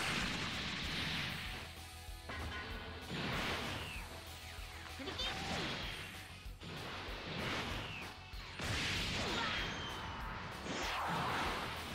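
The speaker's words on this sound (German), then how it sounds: "Ich finde das so cool, wenn da so eine Explosion noch auftaucht." An ultimate Masenko attack in the video game Dragon Ball Xenoverse 2 sets off repeated crashing explosion bursts, booming and rolling in waves over about twelve seconds, kept at a fairly quiet level with some talking mixed in.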